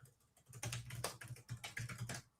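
Quick, uneven typing on a computer keyboard, close and fairly quiet, with keys clattering in short bursts and no voices.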